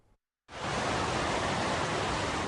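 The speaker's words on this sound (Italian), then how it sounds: "Questo è il rumore dell'acqua del torrente Posina che è esondato" Flooded Posina mountain torrent roaring after overflowing its banks, a dense, loud, steady rush of water that bursts in after a brief silence and continues unbroken.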